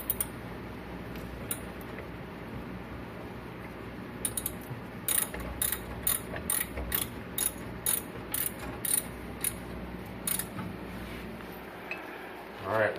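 Ratchet tightening brake caliper bolts during a rear drum-to-disc brake conversion on a Ford 8.8 or 9 axle of a 1968 Ford Thunderbird, a steady run of crisp close clicks in quick bursts over a low background hum.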